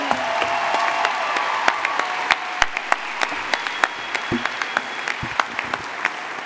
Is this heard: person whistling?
no